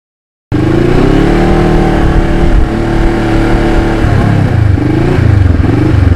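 A Kawasaki Ninja motorcycle with lowered forks runs loud and close, its engine droning steadily with shifting revs and a slight dip partway through, with no voices.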